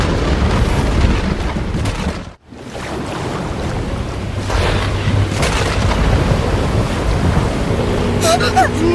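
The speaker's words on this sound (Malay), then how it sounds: "Kenapa tiba-tiba angin kuat ni?" A strong, sudden wind roars in a loud, dense outdoor rush that briefly cuts out, then surges back steadily, with faint voices in the background.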